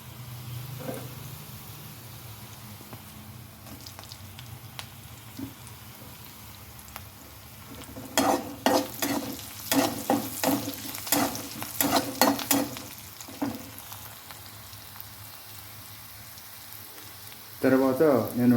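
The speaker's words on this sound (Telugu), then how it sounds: "పచ్చిమిర్చి వేస్తున్నాము." Green chillies frying in a pan of oil for egg gravy: a low sizzle builds into bursts of crackling and spatula stirring, close and fairly loud, ending with a louder scraping flurry.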